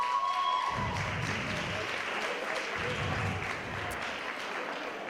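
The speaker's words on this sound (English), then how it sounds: "Could you everyone give a round of applause please?" Indoor audience at an elections event claps steadily for several seconds, a dense, even wash of applause with a faint voice at the very start.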